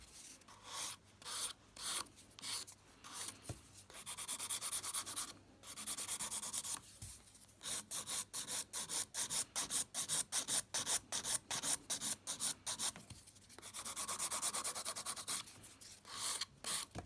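A nail file works over a sculpted acrylic nail with encapsulated glitter stripes in close, quiet, raspy strokes. Steady bursts speed up into a rapid rhythmic run through the middle, then give way to longer sweeps.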